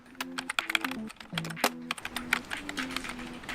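Rapid clicking of a computer keyboard during a TypeRacer typing race, dense irregular keystrokes close up, with a sustained tonal sound running beneath and brief voices in the background.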